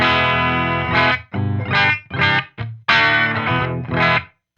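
A Balaguer Espada Limited electric guitar on its bridge pickup, a hot PAF-style humbucker with a mid-forward tone, rings out in several loud strummed chords and short bursts with brief gaps, thickened by chorus-like effects.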